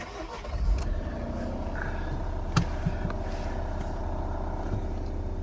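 A 2015 Vauxhall Vivaro 1.6 CDTi diesel van engine cranks cold and catches, then settles into a steady, close idle with a low rumble, no talking over it.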